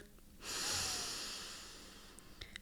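A single deep, slow inhalation through the nose as part of a guided relaxation breathing exercise. It swells up as a broad, airy breath, fades gradually, and is heard alone and close up in a quiet room.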